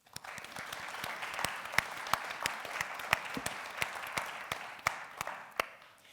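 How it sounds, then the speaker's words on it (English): An audience at a women's keynote event gives a round of applause: a soft, fairly distant patter of many hands, with distinct sharper individual claps standing out at irregular intervals. "Please let's give a round of applause to all of us for our participation"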